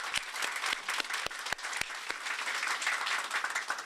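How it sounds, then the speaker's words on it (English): Applause from a crowd at a governor's bill-signing event for the Consumer Fairness Act, a steady wash of many hands clapping at moderate distance with a few louder individual claps standing out. "So one more round of applause for Leader Curry"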